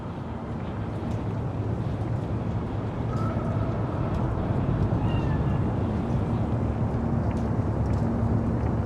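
A cat's meow in the video game Cyberpunk 2077, a faint thin cry heard a couple of times over a steady loud wind-like ambient rumble.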